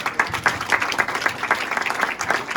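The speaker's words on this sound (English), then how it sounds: "Let's give Nick a round of applause, okay?" A small audience at a martial arts studio demonstration claps for a performer, a fairly sparse, rhythmic patter of hands at close range with distinct individual claps.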